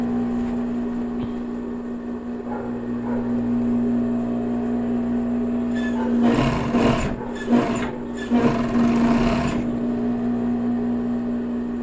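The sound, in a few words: sewing machine sewing a legging waistband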